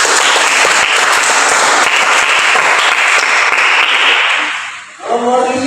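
A class of students applauds, loud and close with dense clapping for about four seconds before it dies away, followed by a brief voice.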